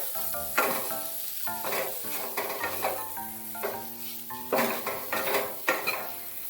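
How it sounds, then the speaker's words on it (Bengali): Capsicum with spices sizzles in a pan for a chana paneer dish as a spoon stirs and scrapes in uneven bursts over a steady, fairly quiet frying hiss. "ক্যাপসিকামটা দিয়েও কিছুক্ষণ নেড়ে চেড়ে নেব।"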